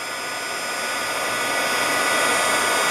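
A heat tool melting embossing powder blows a loud, steady broadband whoosh, a constant hairdryer-like roar that fills the whole stretch with no breaks and no voices.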